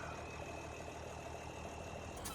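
Tractor engine idling in the Farming Simulator 2017 game, a steady low continuous rumble with a faint constant whine, unchanging and without talk.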